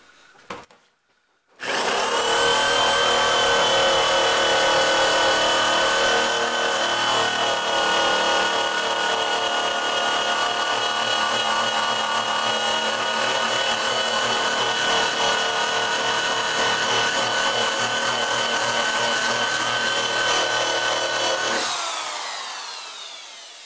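A power tool wheel stripping paint from a trunk, loud continuous grinding whine that starts abruptly and holds steady for about twenty seconds before winding down, close up with no talking.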